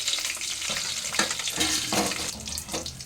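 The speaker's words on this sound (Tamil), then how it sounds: "கொஞ்சோண்டு எண்ணெய் சேர்த்து அதுக்கு கூட இந்த மிளகை இதில் போட்டு இந்த மல்லியையும் இதுக்கு கூட சேர்த்து வறுக்கணும்" Black pepper and coriander seeds roasting in a little oil for a mutton kuzhambu masala give a steady close sizzle with scattered crackles and pops, plus occasional scraping of a stirring spoon, with no talking.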